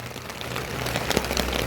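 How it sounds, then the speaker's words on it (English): Heavy rain drumming on a roof during a thunderstorm in Torrevieja, a dense continuous hiss with a low rumbling undertone and a few louder patters, steady and close, no talk. "hearing heavy rain like this and seeing what looks like the roof getting wet already"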